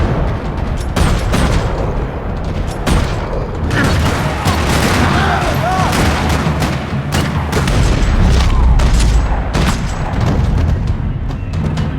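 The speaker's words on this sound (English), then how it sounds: "Another parking lot rattling with gunfire." Gunfire and heavy booms fill a parking lot during a shootout in Max Payne 3, with dense bursts of shots and blasts running loud and continuous throughout.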